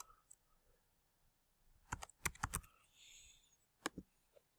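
Typing on a computer keyboard: a few scattered clicks followed by a quick burst of keystrokes, then two more taps, close and fairly quiet with no speech.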